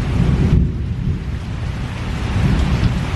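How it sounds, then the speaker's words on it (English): Thunder rolls during a heavy thunderstorm with steady rain pouring down, a loud continuous rumble and hiss throughout with no voices. "Thunder wasn't too bad."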